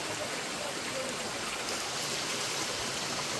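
Water rushes steadily from a waterfall at Bhimashankar temple, set among forested hills at Dakini Hills in Guwahati. It makes a continuous, even roar that fills the whole stretch without a break.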